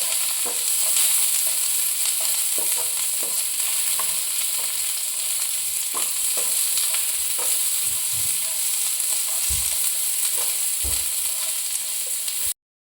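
Onion sizzles steadily in a hot pan, frying until reddish, a constant close crackle with soft intermittent stirring taps throughout.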